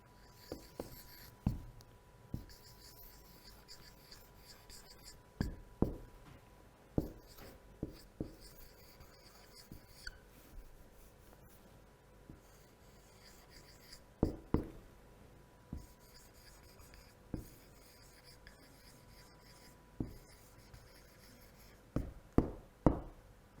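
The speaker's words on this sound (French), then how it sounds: "J'écris la phrase simple." Handwriting a simple French sentence in a classroom grammar lesson: scratchy pen strokes and taps come in short irregular bursts, close and fairly quiet, with no talking.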